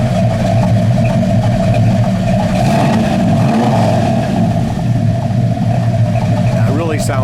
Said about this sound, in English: Dalton, you wanna go ahead and rev it up a couple times and we'll shut it off?